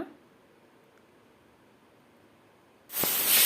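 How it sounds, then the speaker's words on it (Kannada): Pressure cooker whistling as it vents steam while cooking soya pulao, a loud sudden hiss bursting in at the very end after a quiet stretch of low background noise. "ನಾವು ಮುಚ್ಚಳನ ಮುಚ್ಚಿಟ್ಬಿಟ್ಟು ಒಂದು ಎರಡು ವಿಸಿಲ್ ಕೂಗಿಸ್ಕೊಳ್ಳೋಣ ಎರಡು ವಿಸಿಲ್ ಕೂಗಬೇಕು"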